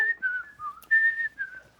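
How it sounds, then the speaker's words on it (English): Someone whistles a short, wavering melody of a few notes, close and clear, with brief pauses between phrases. "She likes whistling."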